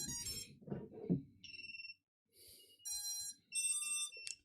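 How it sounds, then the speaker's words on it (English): A drone flight controller buzzer sounds a series of shrill electronic beeps and short tones, some steady and some warbling, following a brief burst of low handling noise at the start. "To prove it's working, buzzer's working."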